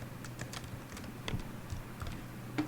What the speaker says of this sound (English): I'm typing this value information.